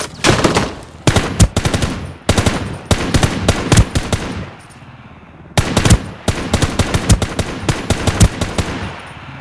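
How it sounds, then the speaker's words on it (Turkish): Automatic and rapid gunfire in the shooter game Ring of Elysium comes in loud, close bursts, several volleys separated by short pauses, with no talking. "Arkadan sıkıyor."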